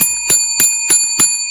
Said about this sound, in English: Let's ring the bell for the Jarrett family